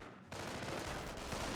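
Rifle and machine-gun fire in the World War II strategy game Company of Heroes, a sudden burst of rattling shots that settles into a steady, dense stream of gunfire.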